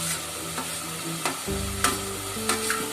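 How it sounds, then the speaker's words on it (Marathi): Paneer pieces fry in hot oil for paneer matar pulao, giving a steady sizzle with a few faint spatula scrapes, close by, and no one speaking. "आता हे पनीर टाकते मी"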